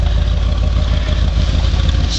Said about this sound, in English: I can hear that lifter already.